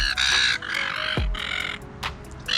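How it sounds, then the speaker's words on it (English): Australian seagulls squawk on a beach at Sandy Bay, Hobart, a flock giving repeated harsh, loud calls close by in overlapping bursts, with one lower cry partway through. "They are Australian seagulls."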